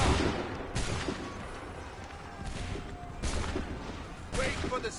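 A volley of gunfire on command, heard as several loud crashing bursts spaced about a second apart, each followed by a rumbling decay, with a voice faintly in between.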